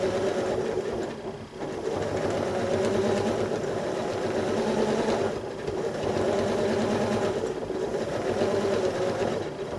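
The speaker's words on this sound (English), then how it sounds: "You can hear how the machine speeds up, and as I get close to the edges and hit those lines, I immediately slow down or even stop the machine" A sewing machine hums through free-motion quilting on a quilt, running steadily and fairly loud, speeding up and then dipping or pausing briefly a few times.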